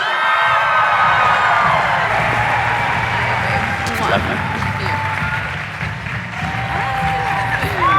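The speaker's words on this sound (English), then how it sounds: "how come you get more applause than I do?" A Brooklyn stage-show audience bursts into loud applause and cheering with whoops, a dense roaring crowd filling the whole stretch, easing slightly near the end.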